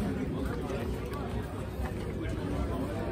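Sellout crowd chattering before a football match at the Gallagher stadium in Maidstone, a dense, steady babble of many voices filling the ground without a break.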